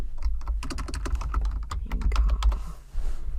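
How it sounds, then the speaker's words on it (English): A word being typed on a computer keyboard: rapid, close clicking keystrokes in a dense continuous run, with a brief pause near the end before more key noise. "I typed in a word that I might use over and over."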